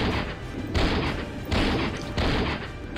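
Rapid bursts of gunfire hit a killer whale in the survival game Survivalcraft 2, heard as a few loud, booming thuds in close succession over a steady background.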